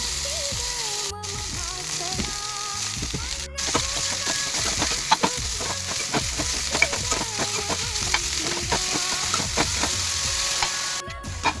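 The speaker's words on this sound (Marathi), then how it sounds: "मी कढई घेतलं, त्यात 2 डवलं तेल घातलं आणि सांबार घातलं त्याच्यामध्ये आणि त्यानंतर सांबारला छान भाजून घेतलं" Coriander leaves roasting in two ladles of oil in a kadhai, a steady close sizzle broken by repeated scraping and clatter of a spoon stirring the pan, with no talk over it.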